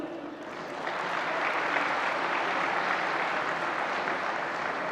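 A large audience applauds at the opening session of an international law and policy forum in Lisbon, a steady sustained clapping that swells slightly after the first second and holds at an even level throughout.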